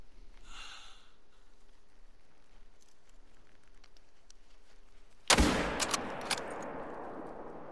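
A single loud rifle shot fired at a caribou in a Yukon valley cracks sharply after a quiet stretch of soft breathing, followed by a few echoing reports and rustling.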